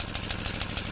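An antique Briggs & Stratton FC engine with a rewound coil runs steadily, a fast, even chugging rhythm of repeated firing pulses, close and moderately loud, with no one speaking.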